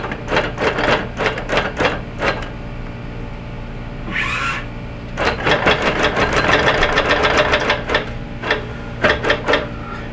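A longarm quilting machine with vertical lock engaged stitches straight lines with soluble basting thread, a loud, close, rapid mechanical chatter running in bursts with a brief pause.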